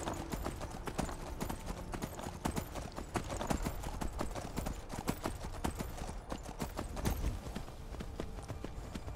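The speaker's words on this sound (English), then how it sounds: "And Frost is an off-road kind of horse" Hooves of a horse galloping off-road across open terrain in the Skyrim video game, a steady, fast clip-clop rhythm of repeated strikes throughout, close and fairly loud over a dense game soundscape.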